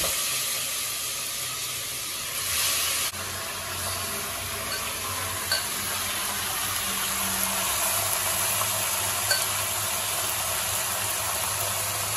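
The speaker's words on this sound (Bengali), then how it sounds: "এবার ভালো করে কুকারের মধ্যেই 5 মিনিটের মতো কষিয়ে দেবো" Mutton frying in a pressure cooker with whole cardamom, cloves, cinnamon and bay leaves gives a steady, continuous sizzling hiss with no talk.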